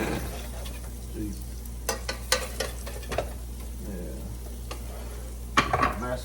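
Bread toasts in a pan oiled with canola oil, sizzling quietly beneath intermittent clanks and scrapes of a utensil against the pan, with a sharper clatter near the end.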